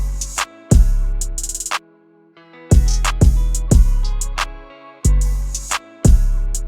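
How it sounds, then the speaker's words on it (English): Two open hi-hats sit in a reverb-washed hip-hop sample beat made in FL Studio, shimmering sizzles over booming kicks and bass notes in a repeating pattern with short pauses. "Then next up, I added these two open hats."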